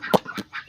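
Ducks eating fruit give a few short, close quacking calls in quick succession.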